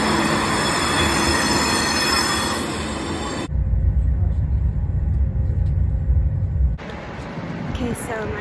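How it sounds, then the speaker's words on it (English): A busy Renfe train station carries loud rumbling train noise with squealing wheels and hiss, then a sudden drop to a deep low roar and a brighter mix of noise again near the end. "So I've arrived in the station where the Renfre is, and it's so busy."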